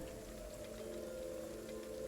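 Steady rain falls outside as background ambience for a tabletop game session, a soft, constant patter with a faint hum beneath, quiet and unchanging.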